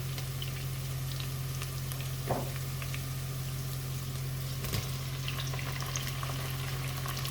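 Meat going into a hot cooking pan for an Iraqi potato stew, a steady broadband sizzle with a low hum beneath and a couple of brief clatters of the food landing, no talking.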